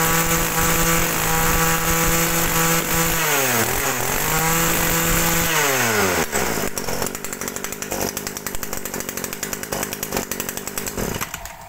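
A small Ryobi chainsaw engine, a Japanese secondhand saw, runs loud and close, its whine rising and falling through a couple of throttle sweeps before settling into a rougher, pulsing idle near the end.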